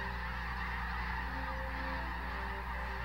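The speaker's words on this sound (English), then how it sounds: "The annual flight south of America's millions of migratory birds." A flock of migratory geese flying south, honking continuously as a dense, steady chorus over a constant low background, moderately distant.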